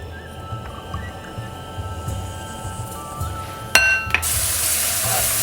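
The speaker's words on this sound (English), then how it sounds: "after adding the oil, go ahead and add in your ginger and your garlic" Ginger and garlic sizzling steadily in hot oil on a stovetop, a low continuous fry with a brief utensil clink, then a louder hiss near the end.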